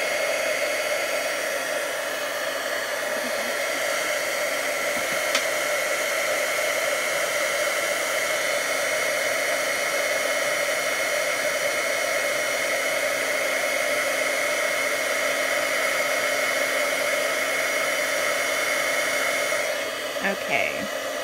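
A heat tool for embossing runs steadily and loudly on a stamped card, a continuous blowing whir with no break until it cuts off near the end.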